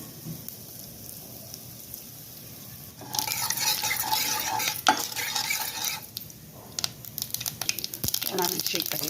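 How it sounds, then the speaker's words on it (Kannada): Asafoetida, mustard seeds and cumin go into hot oil for a radish sambar tempering: a quiet stretch, then a sudden loud, steady sizzle with sharp crackles and pops. "ಎಣ್ಣೆ ಕಾದಿದೆ. ಇಂಗು, ಸಾಸಿವೆ, ಜೀರಿಗೆ ಇಷ್ಟನ್ನು ಒಟ್ಟಿಗೆ ಹಾಕೋಣ."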